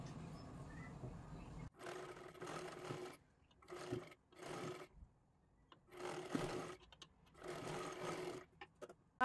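A sewing machine stitches a blouse sleeve lining in several separate bursts of whirring, each run of a second or so, with quiet gaps between them, recorded close but at low level.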